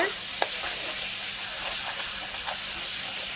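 Small onions fried with ginger garlic paste for a chicken gravy sizzle and hiss steadily in the pan, close up, with light scraping stirs now and then.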